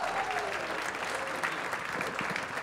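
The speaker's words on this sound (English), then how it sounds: "can we get a round of applause for Coca-Cola," A crowd at a tech startup event applauding steadily, a dense wash of clapping from many hands throughout.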